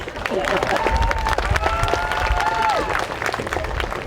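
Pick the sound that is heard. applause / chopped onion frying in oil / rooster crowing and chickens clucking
applause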